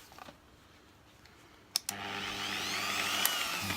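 A buffing machine used on a Hoover Turbopower Junior U1426 refurb starts after a couple of clicks and runs at a steady whirring hum, close and moderately loud, with no speech.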